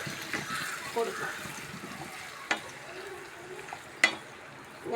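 Mango curry is stirred in a pan over a low flame. Quiet bubbling and a few sharp spoon scrapes against the pan come through under soft talking.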